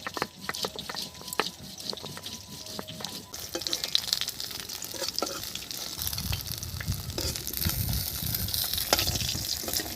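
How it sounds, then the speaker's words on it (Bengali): White cumin seeds and chopped onion hit hot oil in a pan, a loud hissing sizzle with crackles and spatters, the frying intensifying and turning to a fuller bubbling as stirring begins. "ফোড়নে সাদা জিরে দিলাম, পেঁয়াজ কুচি দিয়ে দিলাম।"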